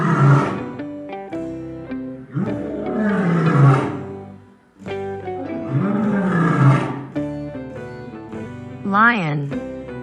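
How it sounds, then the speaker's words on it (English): Lion roars from a children's wild animal sound lesson, several long deep bursts with rising and falling tonal sweeps, loud and close, separated by short pauses. "Lion."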